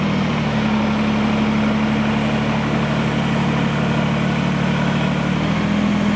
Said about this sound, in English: now you're going to push forward and very carefully raise the whole tractor